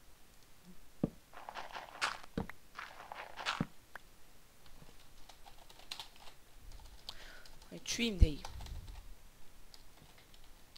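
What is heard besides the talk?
typing on a computer keyboard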